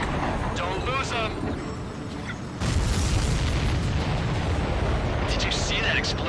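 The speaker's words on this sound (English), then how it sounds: "Did you see that explosion? Looks like that's one of them down." An enemy supply ship blows up in the Ace Combat 7 flight game, a loud broad explosion bursting in over steady jet and battle noise, with radio-style voices talking throughout.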